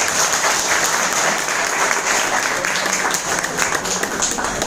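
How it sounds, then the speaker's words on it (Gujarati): An audience at a talk claps steadily and densely throughout, a close, continuous wash of applause with no pauses. "હવે આટલી તાળીઓ હતી"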